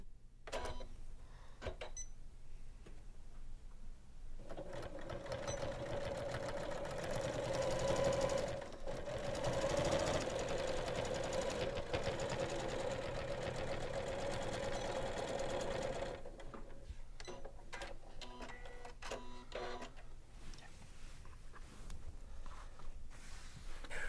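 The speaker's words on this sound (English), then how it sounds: "Align those edges, and sew." A Janome sewing machine stitches a half-inch seam on fabric pieces placed right sides together for a bag, running steadily for about twelve seconds with quieter handling before and after.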